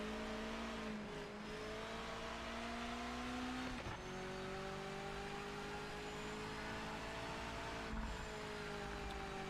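A damaged race car engine in the Project Motor Racing video game drones quietly and steadily, its pitch dipping and rising slightly as revs shift a few times.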